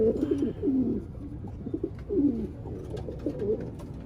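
Racing pigeon hens coo close by in a loft, with repeated soft, throaty rolling calls overlapping at a steady pace and no talking.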